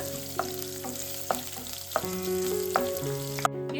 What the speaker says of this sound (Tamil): இது எல்லாமே போட்டு நல்லா வறுத்து எடுத்துக்கலாம்